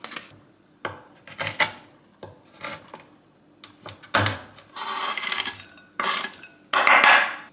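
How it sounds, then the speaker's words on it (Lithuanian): Chocolate chopped with a knife in a kitchen: a close series of sharp cuts and scraping strokes in an irregular rhythm, growing denser toward the end, with no talking. "Tada pasipjaustysim šokolado."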